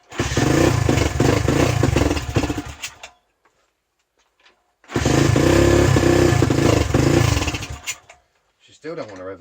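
A pit bike engine revs hard in two long bursts separated by a few seconds of silence, loud and close, with a brief voice at the end.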